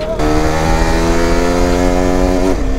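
A motorcycle engine runs on a mountain road with a loud, close, steady drone. The pitch rises slightly and then drops near the end as the throttle eases off. No one speaks.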